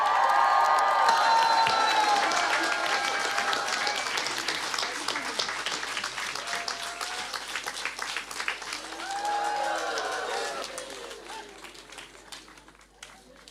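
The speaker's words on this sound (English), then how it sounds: "Big round of applause for Guruji" Audience applause and cheering for Guruji at the Just Love Festival, a sustained wash of clapping from a large crowd with whistles and shouts, strongest at the start and tapering slowly, with voices calling out over it.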